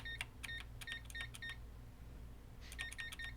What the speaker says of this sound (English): It beeps at a different pitch now.